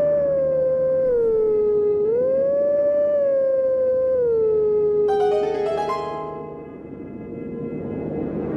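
A wolf howl from the Twilight Princess video game, sustained, sliding and melodic, carries a harmony line over a song, with higher tones joining near the end before fading.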